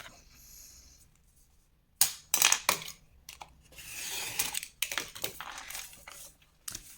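Paper for a scrapbook box is cut after a quiet pause, with a run of crisp, close slicing and rustling bursts of uneven length and a few sharp clicks, and no voices.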